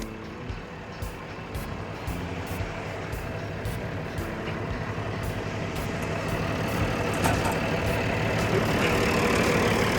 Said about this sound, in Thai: เดี๋ยวเปิดเครื่องยนต์ให้ดูนะครับ